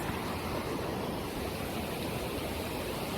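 Steady, full-bodied roar of a waterfall at O Kun De Kun Falls, a continuous broadband rush of falling water heard up close with no pauses or voices.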